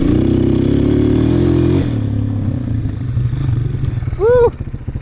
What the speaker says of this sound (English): You hear that right off idle, that has it, that sputter.